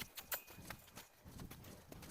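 Hooves of a laid-back horse cantering, a faint rhythmic clip-clop of repeated thuds in a three-beat pattern, heard at a distance and quiet.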